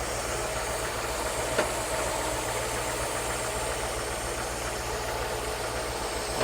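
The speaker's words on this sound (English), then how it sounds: "I'm going to try and bring that back down to about 16 and see how the motor sounds." A car engine idles in a driveway while its ignition timing is adjusted, a steady low rumble with a faint rhythmic knock continuing evenly without pause.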